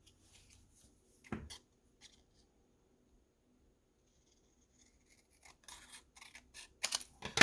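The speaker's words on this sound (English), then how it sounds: "Maybe I can do it with scissors." Scissors snipping through fabric while sewing pockets, a few sharp close cuts early on, then a quiet pause before a busier run of clipping and handling noises.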